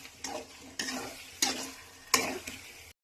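Chicken curry sizzles in a pan as coriander, pepper and clove powder are stirred in, with a continuous frying hiss and four distinct scraping strokes at a steady pace, close and with no talking.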